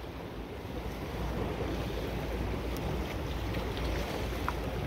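Fast-flowing water on the Arkansas River gives a steady, broadband rushing wash that runs without a break for several seconds. Wind buffets the microphone and a few faint splashes sit in the background.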